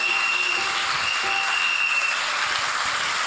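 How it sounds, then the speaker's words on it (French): A church congregation applauding, steady dense clapping from many hands throughout, fairly loud and even. "Est-ce qu'on peut acclamer?"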